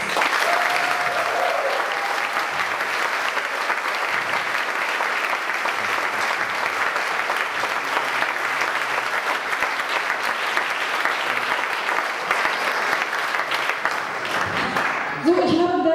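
Sustained audience applause honouring a volunteer at a large domino-toppling event, dense steady clapping for about fifteen seconds with a faint voice early on, ending in a brief louder burst.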